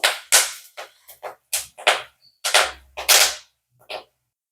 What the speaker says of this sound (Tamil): கடுகு வெந்தயம் வெடிச்சிருச்சுங்க இப்போ நம்ம இந்த மணத்தக்காளியும் விதைய போடுறோம் இது நல்லா வெடிக்கட்டும்